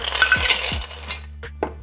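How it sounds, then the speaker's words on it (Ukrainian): Ice cubes dropped into a cocktail shaker while a tiki cocktail is made, giving a few quiet clinks and rattles spread over about two seconds with no talking. "Додаємо лід до шейкера."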